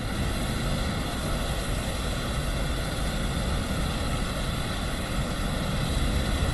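A Boeing 777 taxiing in the Microsoft Flight Simulator 2024 game gives a steady, even engine drone with broad airflow noise that holds at the same level throughout and has no voices.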